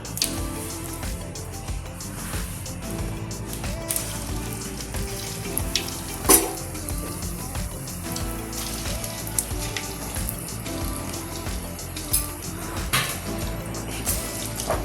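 Small drops of moong dal bonda batter frying in hot oil in a deep pan, a steady close sizzle and crackle throughout with a sharp pop near the middle, no voices.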